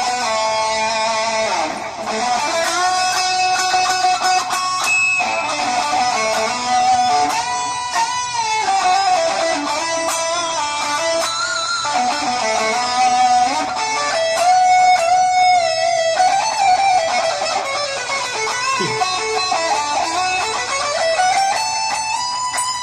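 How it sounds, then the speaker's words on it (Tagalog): Electric guitar run through effects pedals into a small 5-watt portable mini amplifier, playing continuously at low volume with sustained bending notes and shifting tones, alone without talk. "Naririnig natin yung tunog ng guitar effects natin."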